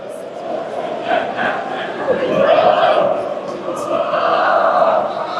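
The Mankato East student section chants "East" at a varsity game against Orono, a crowd of voices rising and falling in repeated rhythmic shouts within a noisy gym.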